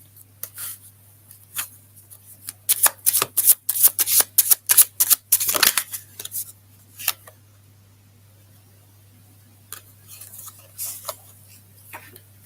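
Cards from a tarot-style deck are shuffled up close in a quick run of crisp riffling snaps, followed by quieter scattered flicks of card handling against a steady low hum.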